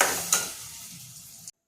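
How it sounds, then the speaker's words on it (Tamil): A short burst of sizzling as urad dough cooks in a hot pan with a scrape of stirring, fading quickly before cutting off. "சிம்மில் வச்சு வேகிற வரை கிண்டிக்குவோம்"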